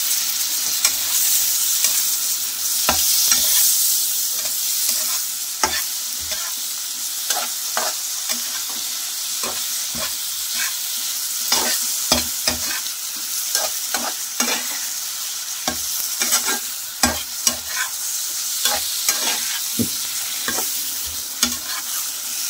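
Four chopped tomatoes hit hot spiced oil and fry with a steady sizzle, broken by frequent sharp clicks and scrapes of a spoon stirring the pan, close up with no voices.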